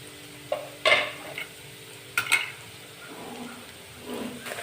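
A spoon stirs dry spices (hing, turmeric, coriander-cumin and red chilli powder) into a crumbled roti mixture in a pan, giving a few sharp scrapes and clinks against the metal with quiet gaps between them.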